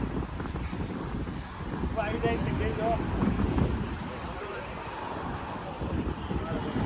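Steady cold wind rushes and buffets the microphone throughout at an outdoor wedding gathering, with people talking beneath it.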